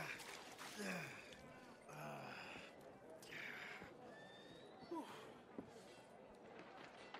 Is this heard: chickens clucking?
no